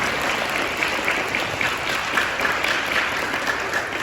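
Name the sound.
audience applause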